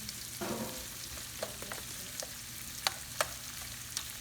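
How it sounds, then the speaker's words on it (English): Onions and garlic sauté in a pan for sweet potato greens, giving a steady soft sizzle broken by scattered sharp clicks and scrapes of stirring, close by with no talk. "onions and my garlic, not gonna burn them, I'm gonna have them get a little bit translucent"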